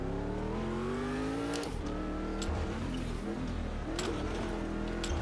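A USAC stadium super truck in the racing game Automobilista 2 at Long Beach: its engine revs loudly and repeatedly, pitch climbing and then dropping sharply between throttle bursts.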